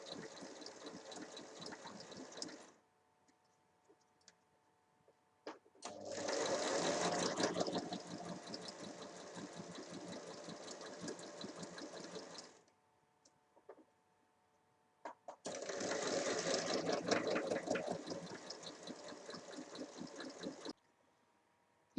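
A sewing machine stitches the panels of a fabric pencil case in two long steady runs, each with a fast, even, chattering rhythm, close and fairly loud, with quiet gaps between them and no talking.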